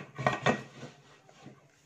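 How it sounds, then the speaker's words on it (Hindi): A metal pressure cooker lid is closed on a gas stove with two quick clanks close together, followed by a fainter scrape and a soft knock. "कुकर बंद करके"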